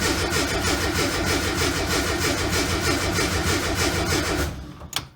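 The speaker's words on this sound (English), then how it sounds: "It's going to take a few cranks to get her going." A carbureted car engine that sat unused all winter cranks steadily and loudly for several seconds with a fast rhythmic churn, then cuts off abruptly with a brief clunk.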